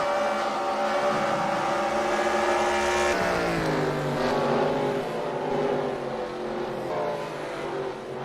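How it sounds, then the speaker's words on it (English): Race cars roar around a dirt track at the Knoxville Nationals on the Dynamite Dirt Tour, a loud continuous engine drone whose pitch swoops and shifts as the cars pass and accelerate. "Dutch Mafia in the 95 looking to catch up to the 33 of James Dill. This is for spot number 5 as they head into 3 and 4"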